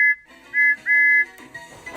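A malfunctioning steam locomotive whistle gives short, wobbly blasts that break off and restart, sounding uneven and strained, followed by a hissing rush.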